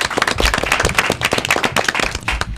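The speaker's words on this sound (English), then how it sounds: "Round of applause for yourself." An audience claps at an elementary school academic quiz competition, a lively, uneven burst of many hands clapping close by, sustained throughout.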